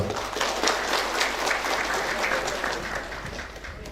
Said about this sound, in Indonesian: Coba tepuk tangan untuk Pak Ketua.